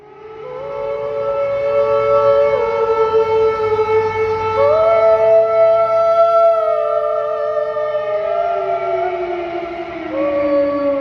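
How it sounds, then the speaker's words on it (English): A loud air raid siren wails continuously, its tone holding and then sliding between pitches, with no other sounds over it. "She's heard the air raid siren many times before"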